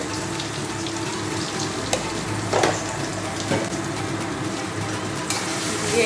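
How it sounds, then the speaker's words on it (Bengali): Food seasoned with salt and turmeric fries in a pan, a steady close sizzle with a few scraping stirs and spoon knocks scattered through. "এটাকে ভালো করে একটু ভেজে নেব"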